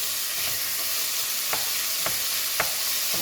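Carrots and onions with milk-fed lamb frying in a pot for berkoukes: a continuous bright sizzle and hiss, with a few stirring scrapes knocking through at intervals, close and without talk.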